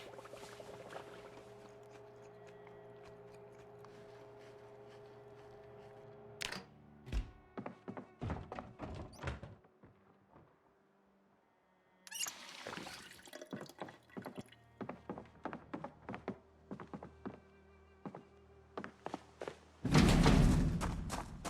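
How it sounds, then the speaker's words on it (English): A pot of food bubbles over while cooking in the Project Zomboid video game: quiet, irregular drips, pops and thunks come in bursts, with a louder splash near the end. "Sounds like that is bubbling over"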